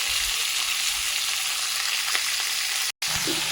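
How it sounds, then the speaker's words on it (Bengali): Shredded cabbage dropped into hot oil in a kadai for an egg curry dish, giving a loud, steady frying hiss, briefly cut off near the end before resuming. "এখানে তেল গরম হয়ে গেছে, এখানে বাঁধাকপি দেওয়া হচ্ছে"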